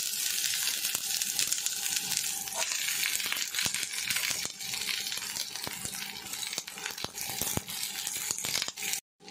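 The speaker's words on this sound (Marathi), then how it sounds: "आता मी इथे तवा तापत ठेवला आहे, त्यात आता मी कांदा घालते." Onion sizzles steadily on a hot tawa, a dense continuous fry with scattered sharp crackles and ticks, close and alone with no talk.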